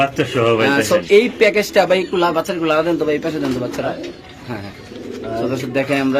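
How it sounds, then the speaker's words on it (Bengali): Pigeons cooing in a loft in Mirpur, Dhaka, repeated throaty coos close by, with a person talking over and between the calls. "দেখেন মাসাল্লাহ কত সুন্দর কবুতর গুলা"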